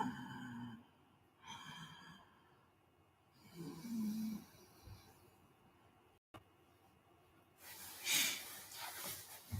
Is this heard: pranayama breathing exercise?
yes